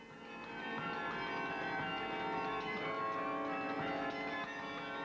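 A sixty-five-year-old carillon of 58-plus bells rings inside its tower, one sustained tone blooming with rich, shimmering overtones that hang steadily and fade slowly, heard up close among the bells.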